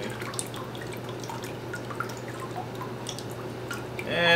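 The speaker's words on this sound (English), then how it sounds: "straight up out of the water and I'm going to let it drain" Water drips and trickles steadily from a paper-making mould held level over a vat, with scattered close drops over a low hum and a louder splash of draining water at the end.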